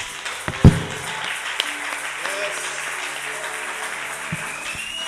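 A church congregation applauding, steady clapping from a crowd throughout with a louder thump early and speech over it.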